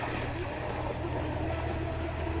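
A ProBoat U-34 8S hydro RC boat speeding across water, its motor a steady, loud, continuous whine with the throttle held high, no voices.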